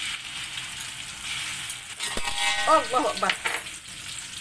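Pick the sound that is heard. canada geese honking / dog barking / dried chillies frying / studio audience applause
dried chillies frying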